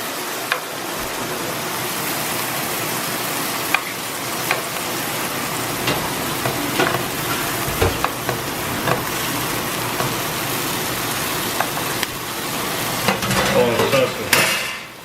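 Steak sizzles in a pan with a constant bright frying hiss, punctuated by metallic clanks and taps of utensils against the pan, loud and close; brief voices occur now and then.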